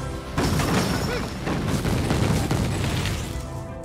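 Meteors slam down in Mario + Rabbids Sparks of Hope, giving a dense, rumbling wash of impact explosions that starts abruptly and keeps up evenly to the end.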